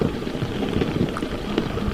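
Steady rain pours down on a garden in a dense, continuous wash, with a low rumble underneath and no voices.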